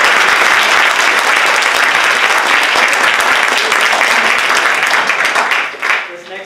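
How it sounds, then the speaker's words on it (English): A school audience applauds a student jazz band with loud, dense clapping that fills the room and holds steady before fading out at the end, when a voice begins to speak. "Can we give them a round of applause?"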